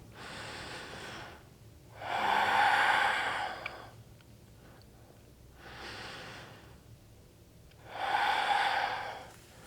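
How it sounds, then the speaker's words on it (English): Slow, deep breaths during a vinyasa flow yoga class: two long audible inhales or exhales, each lasting about two seconds, separated by quieter breathing, close and clear with no talk. "Breathe deeply."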